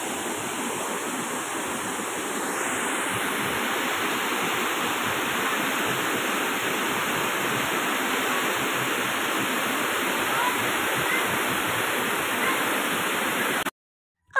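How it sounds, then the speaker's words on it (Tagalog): A waterfall at Panas roars with a steady, loud, close wash of rushing water that continues unbroken before cutting off abruptly at the end. "Paminaw na to ang kanindot sa gas tubig."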